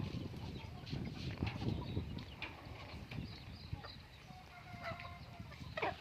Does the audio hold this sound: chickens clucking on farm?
yes